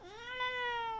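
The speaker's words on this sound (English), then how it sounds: "That's who's been meowing nonstop." A single drawn-out meow from a pet cat, close and clear, rising slightly and holding steady for about a second in a quiet room.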